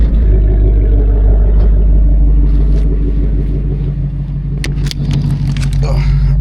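A deep, lumpy idle from an S650 Ford Mustang GT with a ghost cam tune, stock exhaust and Roush mid X-pipe, rumbles loudly and steadily up close, with a slightly uneven lope and a few faint clicks near the end.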